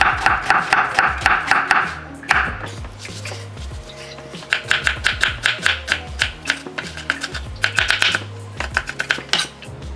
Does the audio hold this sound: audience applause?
no